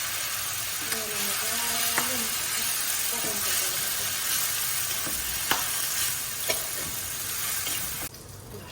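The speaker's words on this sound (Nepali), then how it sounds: "यसलाई भुट्दैछु मैले" Onion and tomato frying in oil in a pan for a fish curry give a loud, continuous sizzle with occasional stirring knocks, and a voice speaks briefly near the start.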